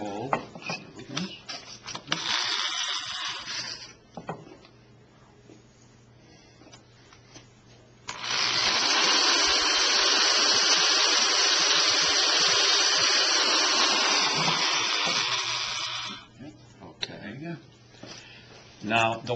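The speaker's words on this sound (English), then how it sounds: "So you drill another hole." An electric drill whines in two bursts while drilling a hole, a short one and then a longer steady run of several seconds, with clicks and handling noise around them.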